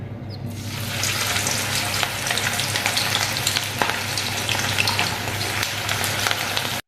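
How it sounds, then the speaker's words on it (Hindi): Flour-coated pieces fry in a pan of hot oil, with a dense, steady sizzle and crackle that starts after a brief quiet moment and continues loudly and close, with no talking. "अब इसको मैं फ्राई कर लूँगी"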